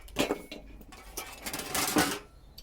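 An oak brace being clamped down for routing in a woodworking shop gives off a few sharp, mechanical clicking and rattling bursts, close and fairly loud, with short pauses between them.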